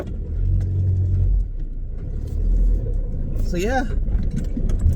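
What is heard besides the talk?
car traffic passing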